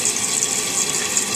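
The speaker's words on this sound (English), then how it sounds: "and it's going to fill your tank back up." A toilet tank refilling through its fill valve after a flush, a steady, close hiss and rush of running water with no pauses.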